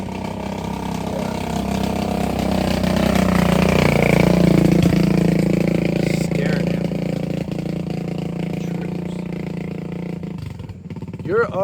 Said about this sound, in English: this motorcycle, he has a muffler problem. You hear it?